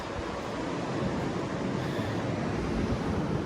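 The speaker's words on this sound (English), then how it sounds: "I'm still getting wind" Continuous broadband rushing noise of wind blowing across a microphone in Santa Barbara holds steady and fairly loud without pauses.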